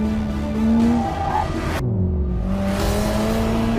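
Tires of a Lingenfelter C7 Corvette skid and squeal under a loud, steady engine roar, with a gliding whine that drops sharply mid-clip before climbing again, close up and continuous with no talk.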